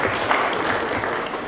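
Audience applause fills a panel talk on masculinities on the internet and personal data, a steady, dense wash of clapping that holds at an even level for the whole stretch, with no voices over it.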